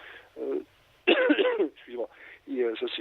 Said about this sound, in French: c'est le temps de Paris. Ça vous fait tousser.